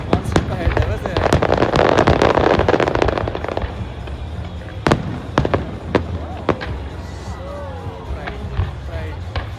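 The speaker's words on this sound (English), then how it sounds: "How much fireworks do they have on that thing?" Fireworks burst over Vancouver, BC on a summer night: a loud stretch of crackling and popping, then a series of sharp, separate booms, with spectators talking and cheering nearby.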